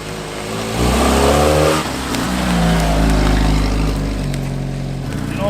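An abandoned old Jeep with four-wheel drive revs loudly up close while driving off-road through woods, its engine note climbing and falling over a sustained throaty roar.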